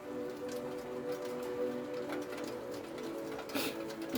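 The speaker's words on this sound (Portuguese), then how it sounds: "Eu acho que a chuva tá bem forte agora" Steady heavy rain pours down in a constant dense hiss with scattered drops tapping on a surface, continuous and fairly close, with no talking over it.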